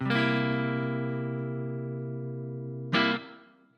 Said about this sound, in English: our next really important 7th chord is going to be the dominant 7th chord